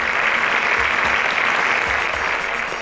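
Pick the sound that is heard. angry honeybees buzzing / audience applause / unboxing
audience applause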